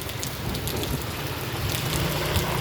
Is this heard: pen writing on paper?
no